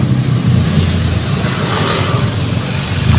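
Steady road traffic of cars and other vehicles heading into central Makassar from the Gowa direction, a continuous loud rumble of engines with passing vehicles close by.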